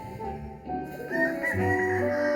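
Chickens cluck and murmur nearby amid steady farmyard background noise, with a faint crow-like call rising partway through.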